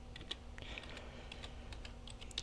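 Keystrokes on a computer keyboard while entering a command in MX Linux, a quick irregular run of light clicks and taps, close and clear with no talking.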